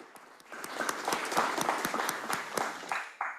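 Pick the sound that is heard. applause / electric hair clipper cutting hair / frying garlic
applause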